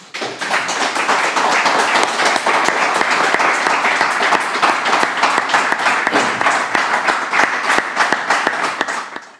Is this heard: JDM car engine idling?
no